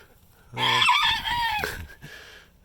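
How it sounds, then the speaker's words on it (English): A single loud chicken call rings out for about a second, a harsh drawn-out squawk that breaks off abruptly. "the chickens are more winter hardy than they are summer hardy"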